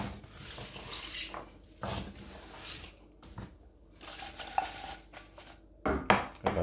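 Sliced apples dropped into a pan for a crumble, with clattering, scraping and knocking of fruit and utensils against the pan in uneven bursts, close and moderately loud.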